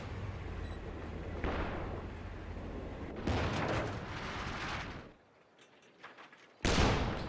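Booming gunfire and explosions from a Company of Heroes 2 match, with MG42 machine gun fire among them, coming in heavy rolling bursts that fade briefly before another loud blast.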